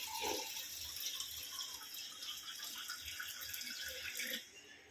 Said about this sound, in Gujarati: પાણી ભરતા હું ઠંડા ઠંડા માટલાનું ઠંડુ ઠંડુ પાણી